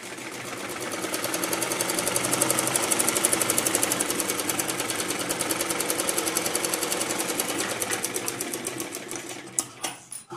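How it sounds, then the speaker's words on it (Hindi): A sewing machine stitches a blouse frill on net fabric, a fast, steady mechanical rattle running for about nine seconds before slowing into a few separate clunks as it stops. "इसके ऊपर सिलाई लगानी है हमें अच्छे से"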